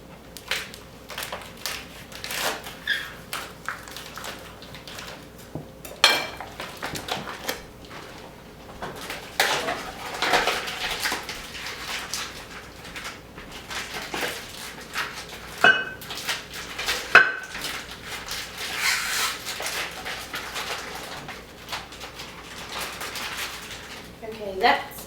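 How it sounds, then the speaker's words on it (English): Soup bones and broth for a home-cooked beef stew are put into a crock pot, with scattered clinks, knocks and clatter of dishes and utensils at close range, while someone talks. "I'm going to start with putting our soup bones and our broth"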